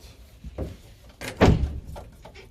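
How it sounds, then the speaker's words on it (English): An outside door bangs shut nearby with a single solid thud, after some faint shuffling and clatter, where pigeons are kept. "that's the outside door"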